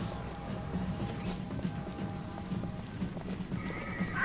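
Steady clip-clop of a mechanical horse in Bioshock Infinite plods along in a muffled, even rhythm, with a brief whinny-like tone near the end.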